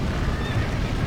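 In a Red Dead Redemption game scene, a horse whinnies amid a dense, noisy background, heard only briefly.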